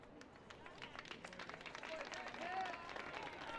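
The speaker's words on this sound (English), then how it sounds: "So claps all along for Mapelder" Scattered claps and light applause from a small crowd at a Little League baseball championship game, greeting a departing pitcher, with a voice talking over the clapping.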